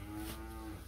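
A cow moos once in a rural village in Bogura, Bangladesh: a low, drawn-out bellow lasting nearly a second, close and fairly loud, with no talk over it.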